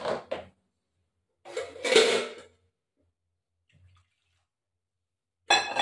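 Water is poured into a cooking pot of potato curry with peas and milk, in short splashing bursts separated by silence, close by.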